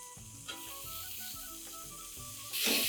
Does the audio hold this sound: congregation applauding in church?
no